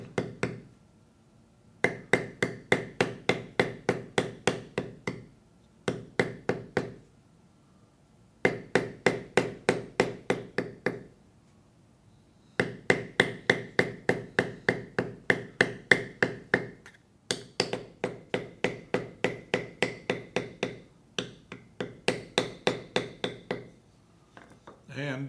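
A metal beveling tool is struck with a mallet while carving leather, giving rapid, evenly spaced ringing taps in bursts of a dozen or more, separated by short pauses, close and fairly loud with no talking.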